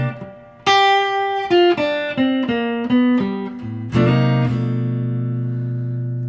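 A guitar plays a blues ending in G, with a run of short plucked notes and chords that finishes on a ringing ninth chord, clear and unaccompanied.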